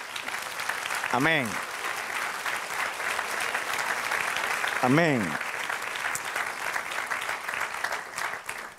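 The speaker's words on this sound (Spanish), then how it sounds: "Dale un aplauso al Señor." Congregation applause fills a church in a continuous, lively wash of clapping, while a voice calls out twice over it.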